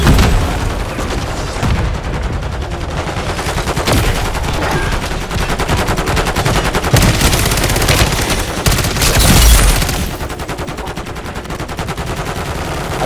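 Rapid, sustained gunfire from shooting zombies in Call of Duty MW3 Zombies, Dark Aether mode, loud and nearly continuous bursts of automatic fire with heavy booms layered throughout, no talk over it.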